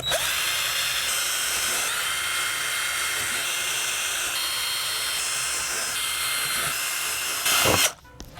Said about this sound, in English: So I'm just gonna drill a couple of holes on the side of the enclosure.